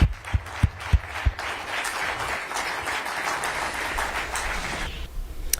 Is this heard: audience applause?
yes